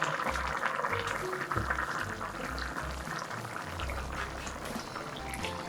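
Potato tuna stew (gamja jjageuli) simmers in a pot with continuous soft bubbling and popping, close and low, under a faint background hum and no clear talk.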